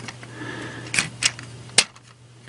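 Plastic flaps on a Transformers Prime First Edition Optimus Prime toy are folded, giving three or four sharp close clicks and snaps over a low steady hum.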